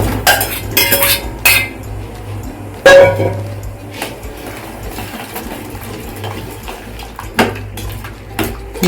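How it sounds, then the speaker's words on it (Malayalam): Hog plums tumble into a metal pan with scattered clinks and thuds, a few sharper knocks standing out, close by and without talk. "ഈ പാനിയിലോട്ട് ഈ അമ്പഴങ്ങ ഇടുക"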